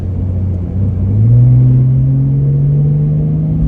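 A low, droning engine rumble from inside a car, rising in pitch and loudness as the vehicle accelerates, then holding steady.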